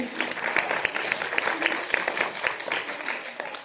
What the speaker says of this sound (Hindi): बजाओ ताली तो यार, आपने भी